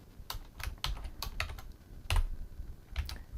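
Typing on a computer keyboard, close by, with quick irregular key clicks and taps at a light, steady pace.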